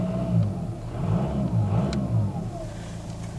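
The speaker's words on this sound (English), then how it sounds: "So I'll put my foot on the throttle there" A VW car engine rises in revs as the throttle is pressed, a moderate steady drone swelling and falling slightly over a few seconds, heard without speech.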